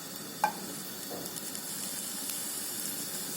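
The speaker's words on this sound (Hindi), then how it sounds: "एक पैन गरम करके उसमें थोड़ा सा ऑयल ब्रश कर लेंगे और लो फ्लेम पे शिमला मिर्च का रिंग को अरेंज करके फ्राई कर लेंगे" Bell pepper rings frying on low flame in a pan brushed with a little oil, a soft continuous sizzle with a brief clink near the start and faint scattered crackles.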